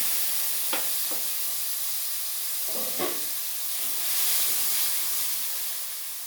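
Spices sizzle in hot oil while being sautéed for a rohu fish curry with taro, a steady close hiss broken by a few brief crackles, with no talking.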